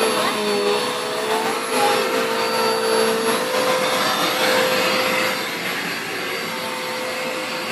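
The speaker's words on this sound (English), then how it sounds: "Are you vacuuming?" A household vacuum cleaner runs steadily nearby with a loud, continuous motor whine and a rushing airflow hiss. It eases off slightly near the end, and no talking is heard.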